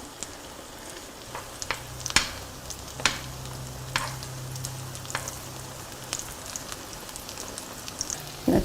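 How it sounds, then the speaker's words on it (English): Japanese pancake batter fries in a pan with a steady soft sizzle and scattered crackles and pops, close by and without talk. "you want to cook it for 3 or 4 minutes on the first side until it starts to brown underneath"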